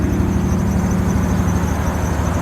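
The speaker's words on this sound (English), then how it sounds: "Belt noise is not that big of a deal to me" The engine belt of a 2002 Lexus SC430 squeals in a steady, loud, close whine over the running engine's hum, with no talk.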